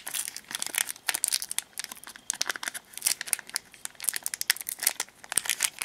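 Someone tears open a Faramp trading card booster pack: close, busy crinkling and ripping of the wrapper that runs on without pause for several seconds, with no voice.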